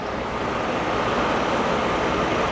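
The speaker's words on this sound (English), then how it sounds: "I'm standing right next to that engine. It's running right now. It's purring like a kitten." A 6.8-litre V10 engine idles in a 2018 Blue Bird Vision school bus, a steady, even broadband rumble heard close up with no break for the whole stretch.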